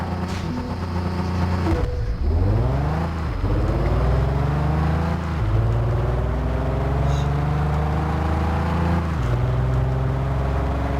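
Car engine in the Test Drive Unlimited 2 racing game revs loudly and repeatedly, climbing in pitch through each gear before dropping at shifts, a continuous close roar with no talking.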